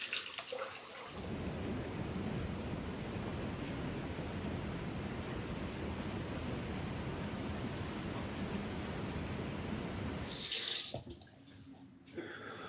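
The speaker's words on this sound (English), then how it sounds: "So let's rinse off." Running water from a tap rinsing shaving soap off the face after a razor shave, a steady close hiss and splash that keeps on for about ten seconds, then cuts off into a brief louder splash and quieter handling noise.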